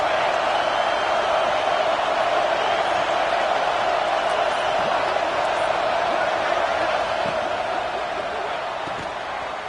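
Crowd noise fills a stadium during a college football video game, a continuous, even roar that holds steady throughout with no clear breaks.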